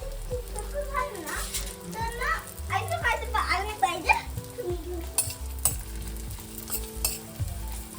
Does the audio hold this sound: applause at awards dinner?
no